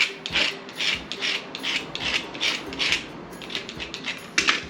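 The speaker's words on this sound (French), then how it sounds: "Je vais gratter tout le long, en haut," A tool scrapes along the top edge of a piece of brown leather in a steady series of short, close, raspy strokes, about two per second.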